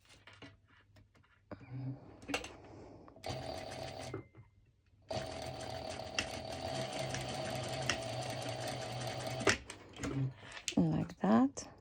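A sewing machine runs a straight stitch over a small fabric loop in two bursts, a short run then a longer steady one, between quiet pauses and handling noises, with a voice talking.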